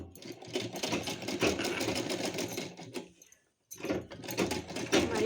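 A sewing machine runs in steady bursts, stitching net fabric for a party-wear gown, with a short pause midway before the whirring resumes close and fairly loud.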